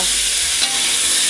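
Pointed gourd (potol) frying lightly in hot oil in a home kitchen, a steady close hiss and crackle of sizzling with one soft stir midway.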